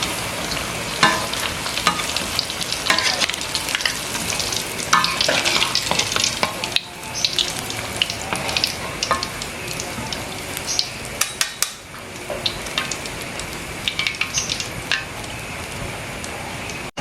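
Tempeh and then salted sepat fish fry in hot oil, giving a loud, steady crackling sizzle with scattered spatters and the occasional scrape of stirring. It briefly quiets around the middle before the frying picks up again.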